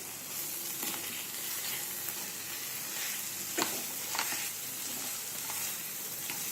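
Mushrooms going into a pan of frying masala gravy with oil separating, a steady close sizzle with a few soft stirring knocks, no voices.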